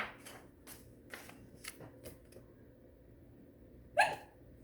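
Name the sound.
cartoon penguin hiccuping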